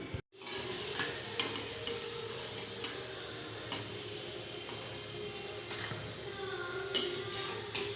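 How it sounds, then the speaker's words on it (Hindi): Kachori fry in hot oil in a kadhai, a constant dense sizzle with light periodic clicks and scrapes of a slotted spoon against the metal, heard close up without voices. "इसी तरीके से हम सारे कचौरी को फ्राई करके रेडी कर लेते हैं।"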